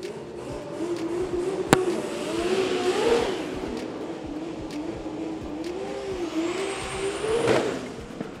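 Street drag racing cars, Super Sick 4WD and 2WD classes, idling and rolling slowly into parc fermé: a steady engine drone with rising and falling revs, a sharp click near the start and a louder swell toward the end.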